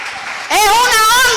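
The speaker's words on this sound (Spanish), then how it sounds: "Vamos a aplaudirle." A church congregation clapping in a burst of applause that rises sharply halfway through, loud and close, with a voice calling out over it.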